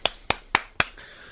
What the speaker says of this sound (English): Cheesy round of applause there